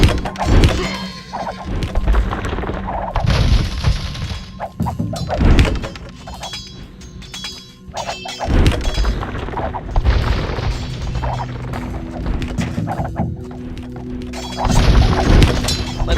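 A siege workshop crumbles under attack in Age of Empires II, with repeated loud crashes, thuds and smashing impacts in irregular bursts over a busy battle din.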